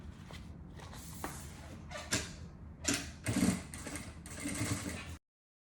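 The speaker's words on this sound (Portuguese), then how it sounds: "Agora a gente desvira e faz uma costura, faz um pesponto aqui em cima." Sewing machine topstitching a narrow seam along the top of a double cosmetic bag, running in several short bursts with brief pauses between, fairly quiet and close with no talking.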